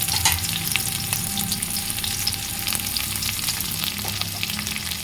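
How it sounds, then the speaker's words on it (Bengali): Onions added to a garam masala tempering, frying with a dense, steady sizzle and crackle that runs unbroken throughout, close and full, without any talk. "এই যে প্রথমে দিলাম একটু গরম মশলা ফোড়ন দিয়েছি আর পেঁয়াজ দিচ্ছি"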